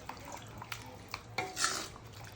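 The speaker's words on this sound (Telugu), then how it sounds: "వేసుకొని కొంచెం మిక్స్ చేసుకోండి" A spoon clinks and scrapes a few times against a pan as chicken curry with freshly added water is stirred, followed by a soft swishing stir, all quiet and close with no talking.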